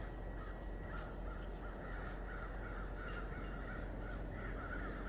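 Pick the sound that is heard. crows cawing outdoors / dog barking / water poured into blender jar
crows cawing outdoors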